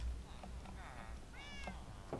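A pet cat in Minecraft 1.16 survival gameplay gives two short, soft meows a moment apart, faint over a quiet background hum.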